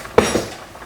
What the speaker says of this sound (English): Let's move this bowl.